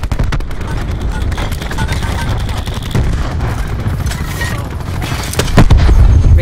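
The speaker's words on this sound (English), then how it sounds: "Cluster grenade going out." Rapid gunfire and booming cluster grenade explosions in Call of Duty: Black Ops 4 Hardpoint on the Summit map, dense and continuous, with in-game voice callouts faintly underneath and a louder burst near the end.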